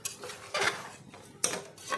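Rice is stirred in a pot while making khichuri, giving three short, close scraping strokes of a spoon against the metal pot with brief pauses between them.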